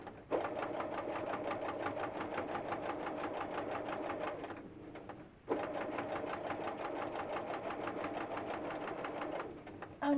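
A sewing machine runs steadily, stitching down a single-fabric quilt binding, with a continuous close mechanical whir broken by one short pause near the middle before it resumes.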